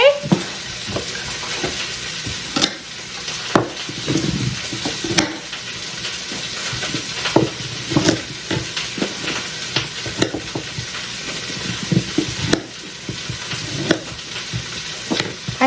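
Beef short ribs fry in a pan with a steady sizzle that runs throughout, broken by frequent clinks and scrapes of tongs as the meat is stirred and turned.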